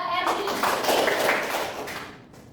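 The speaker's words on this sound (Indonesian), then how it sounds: "Berikan tepuk tangan untuk Mbak Erdi." A classroom of young pupils claps together for a classmate, a dense burst of fast hand claps with some children's voices mixed in, fading out toward the end.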